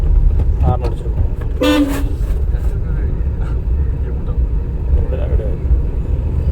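A car horn sounds briefly during a driving lesson, riding over steady engine and road rumble inside the vehicle, with people talking before and after.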